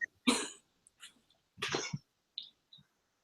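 Several dry coughs from one person indoors, in two close bursts with a short single cough between, followed by quieter small throat sounds, near and fairly loud.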